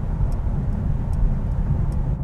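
Mercedes-AMG GT Coupe from 2024 driving on the road, heard from inside as a steady low rumble of engine and tyre noise with a smooth, constant cruising drone and no voices.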